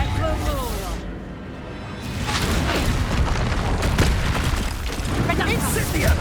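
Reducto spell blast in the Hogwarts Legacy video game, dense booming bursts and crackling impacts layered over combat noise, loud and close, with a voice shouting during the fight.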